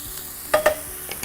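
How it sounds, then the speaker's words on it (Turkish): Onions sizzle softly in a pan, a steady hiss with a couple of brief scraping stirs, close and quiet. "Soğanlar da yavaş yavaş pişmeye başlasın."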